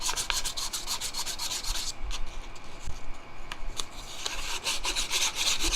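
A metal serving spoon is hand-sanded with 600 grit sandpaper, giving a steady rasping rub in close, rhythmic strokes with a brief lighter pause midway.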